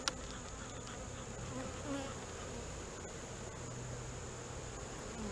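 Honeybees drone inside an open beehive during an inspection with smoke applied, a busy continuous buzz close up with a faint high whine and a brief click at the start.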